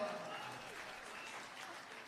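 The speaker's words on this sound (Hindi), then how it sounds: "आपकी तालियां उठती रहे" Audience applause at a Hindi poetry or satire stage event, a steady, dense wash of clapping running throughout at a fairly even level.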